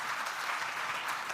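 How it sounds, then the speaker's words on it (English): A quiz-finale audience at an insurance awareness competition gives the teams a round of applause, a dense, even patter of many hands that carries at steady volume throughout without speech. "Can I please ask all of you to please give a big round of applause to all our teams."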